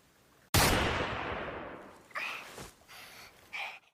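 A single sharp gunshot in a film scene where a woman is shot, a loud sudden crack with a long decaying tail, followed by a few faint breaths and gasps.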